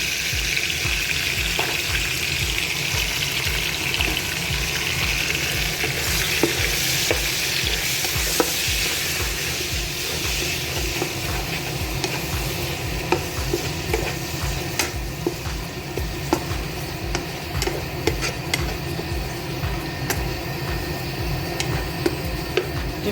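Tomatoes, red chili and salt fry in a pan with a steady loud sizzle, while a spoon scrapes and stirs in a quick, continuous rhythm close by.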